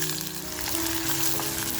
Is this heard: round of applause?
no